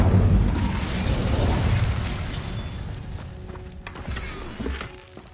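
Incendio fire spell cast in Hogwarts Legacy, a loud whooshing burst of flame with a booming low rumble that swells at the start, then fades into crackling and scattered pops.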